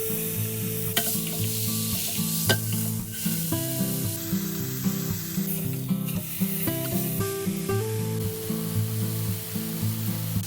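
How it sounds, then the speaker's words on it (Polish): Pork loin sears in a hot dry frying pan with continuous crackling sizzle and occasional sharp pops, close and steady over a background of music. "Rozgrzewamy suchą patelnię i obsmażamy schab z każdej strony."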